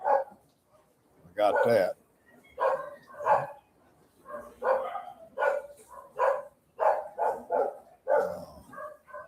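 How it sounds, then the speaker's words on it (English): Several dogs bark in the Philippines, short repeated woofs and yips coming in uneven bursts at moderate distance, while someone talks in between. "I wish these dogs would shut up."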